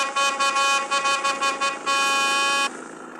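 A car horn sounds to overtake, several short toots in quick succession followed by one longer sustained blast, loud and close, then fades to faint road noise.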